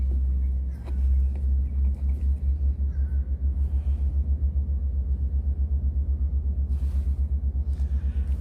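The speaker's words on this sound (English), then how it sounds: "That's the sound of the locomotive, the engine for the train going back." A train locomotive engine throbs in a deep, steady, pulsing low rumble from a distance, continuous throughout, with faint ambient noise above it in an outdoor park in Oyster Bay, Long Island.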